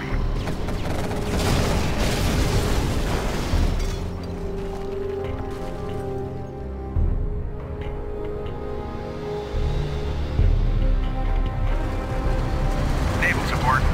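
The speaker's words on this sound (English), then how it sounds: "Battleship standing by. Offshore artillery." Offshore battleship artillery in Command & Conquer Generals Zero Hour: loud booming blasts and crackling impacts in a dense, rumbling battle mix.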